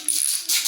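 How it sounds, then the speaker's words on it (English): A child plays with a cymbal in the background, making a brief bright metallic shimmer that rings faintly for under a second. "My son is playing with a cymbal behind me."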